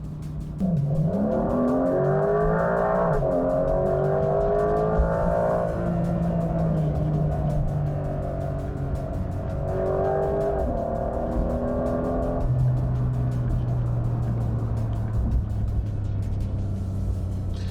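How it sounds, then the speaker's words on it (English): A Porsche 911 Carrera 4 GTS hybrid engine growls loudly and steadily, its pitch sliding up and down as it revs, then settles into a deep, even drone. "You can't get that growl in any electric car"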